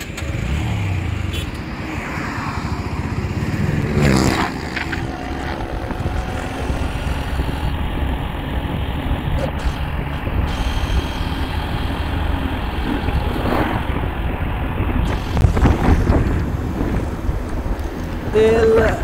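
A 160cc 4V motorcycle ridden during a fuel mileage test, its engine droning steadily under heavy wind rush on the microphone, with a voice talking over it.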